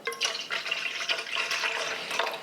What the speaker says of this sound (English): So we're gonna add 625 grams of warm water to this bowl.